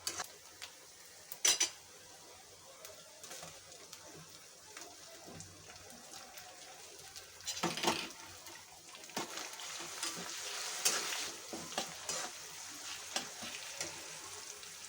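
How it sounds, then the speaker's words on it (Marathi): Onion and tomato fry in a pan on a low flame with a quiet, soft sizzle, broken by several louder scrapes and clinks of a spoon against the pan. "ही भाजी मंद गॅसवरच करायची आहे कांदा थोडा ट्रान्सपरंट होत आला की त्यात टोमॅटो टाकून घ्यायचे"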